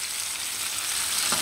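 Rump steak frying in a pan with its fat, a loud, close, continuous sizzle and crackle with a brief scrape of stirring near the end, no talking.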